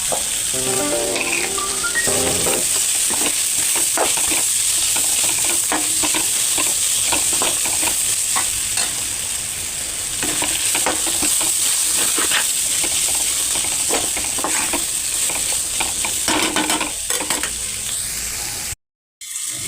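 Ivy gourd (tindora) fries with chilli powder, coriander powder and other spices in a pan, giving a loud, continuous sizzle layered with frequent scraping and stirring clatter that runs almost unbroken until a brief cut near the end.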